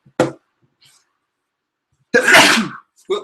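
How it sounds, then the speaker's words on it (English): A single loud, close sneeze bursts out after a short sharp intake, with faint speech after it. "sorry, I'm about to sneeze."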